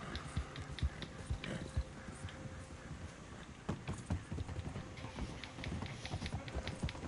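Horse hooves galloping in Red Dead Redemption 2: steady rapid clip-clop of hoofbeats on the ground, moderately close and continuous, with faint in-game ambience underneath.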